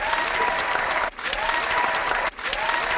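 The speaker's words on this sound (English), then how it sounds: "give Mark a round of applause" A crowd claps in a lively round of applause, dense and steady, broken by two brief dips before resuming.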